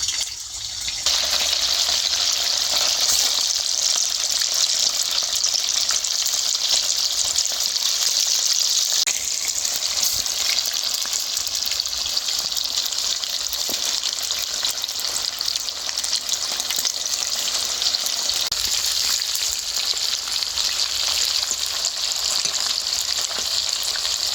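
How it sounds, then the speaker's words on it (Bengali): Marinated chicken pieces frying in hot oil for a Bengali orange chicken dish, a loud, dense, continuous sizzle and bubbling hiss that holds steady close by for the whole stretch, with no voices. "তেলটা গরম হয়ে গেছে, এবার এই ম্যারিনেট করা মাংসগুলো ভেজে নেব।"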